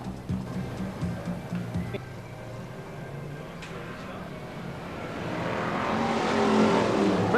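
BriSCA Formula 1 stock cars roar off at the start of a B-class heat at the 1994 Skegness Speedweekend, engines revving louder as the pack accelerates, with a commentator's voice partly over the noise.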